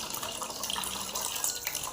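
Nungu (palm fruit) juice is poured from one vessel into another, a steady close liquid trickle and splash throughout with no voices.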